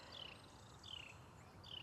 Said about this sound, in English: I can hear the beautiful birds singing too.